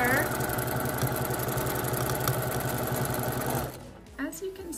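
A sewing machine stitching during free-motion quilting, a fast steady mechanical rattle running loud and continuous, then stopping near the end, leaving brief handling noises.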